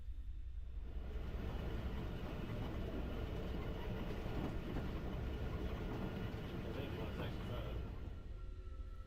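A train rolls steadily along the tracks, a continuous low rumble with faint rhythmic clatter holding level throughout.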